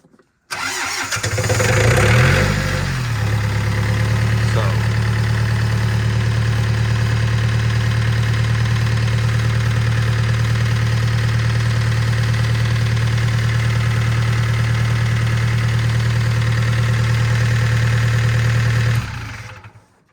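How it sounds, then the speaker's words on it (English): A John Deere tractor with a Yanmar engine cranks briefly in the cold, catches and settles into a loud, steady diesel idle that drones on for about fifteen seconds before cutting off. "Let's see if we can get it to crank at 11 degrees."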